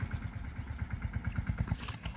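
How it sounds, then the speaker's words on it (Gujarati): A diesel tractor engine chugs in a fast, even rhythm at moderate distance in a farm field, steady and unchanging throughout. "સામે આપણે બીજા ભાગમાં ટ્રેક્ટર અહીંયા હાલે છે"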